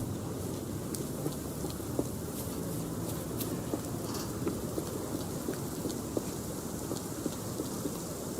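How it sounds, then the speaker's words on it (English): Steady rain pours down throughout a rainy scene in the video game Sherlock Holmes The Awakened, a dense, even hiss with scattered louder drops and occasional soft low rumbles. "This dreary rain is making a miserable day even worse."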